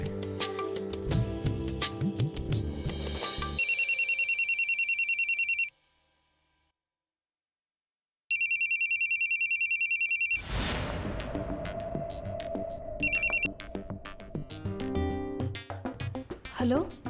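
A telephone ringing in a domestic scene from a TV drama, with loud repeated electronic ring bursts broken by a silent gap, then ringing again under music and people talking.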